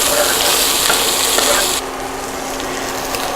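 Garlic and root vegetables are tipped into a hot pan with onions for corned beef hash, giving a loud, dense frying hiss that drops partway through to a quieter, steady sizzle.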